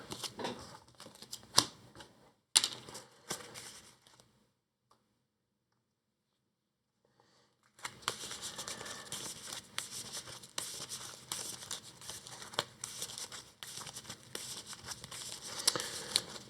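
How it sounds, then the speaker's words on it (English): A challenge deck of cards for the Earthborne Rangers board game is shuffled, with two brief riffles, a pause of silence, then sustained close papery riffling and shuffling to the end. "we'll shuffle the challenge deck"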